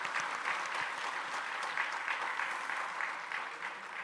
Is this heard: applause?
yes